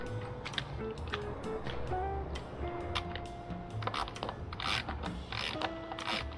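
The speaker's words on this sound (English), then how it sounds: "Tightening this up." A ratchet wrench tightens bolts while installing a tail kit on a Royal Enfield Continental GT 650, giving irregular clicking ratchet strokes and small metallic knocks, close and moderately quiet.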